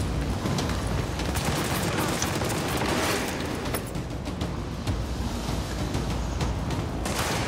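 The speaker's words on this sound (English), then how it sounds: "Who's shooting at her?" Dense, continuous gunfire and explosions from a firefight in Tom Clancy's The Division, a steady roar of overlapping shots and blasts at fairly close range with no clear pauses.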